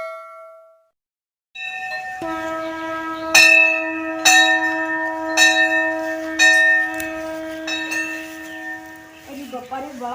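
A large bell is struck about five times in a slow rhythm, each clang ringing on with a long shimmering sustain. A voice is heard briefly at the end.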